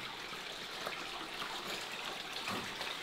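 Rainwater pours down inside a tunnel, a steady broadband wash of splashing and dripping that fills the whole stretch without pause or voices.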